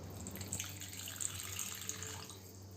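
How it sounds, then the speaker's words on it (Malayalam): About a quarter cup of water is poured into a pan of cauliflower masala with softened tomatoes, a faint, continuous splashing trickle that lasts a few seconds. "ഇനി ഇതിലേക്ക് ഞാനൊരു 1/4 കപ്പ് വെള്ളം ഒഴിച്ചു കൊടുക്കുന്നുണ്ട്."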